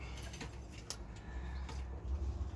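Pigeons in a loft coo softly at close range, with low murmuring calls and occasional light flutters and patters over a quiet background.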